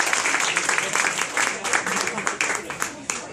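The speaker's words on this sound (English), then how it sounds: "Give her a round of applause." Applause from an audience at a Chamber of Commerce hypnosis talk greets a volunteer coming up on stage, a brief, moderately loud patter of many hands mixed with a voice speaking over it.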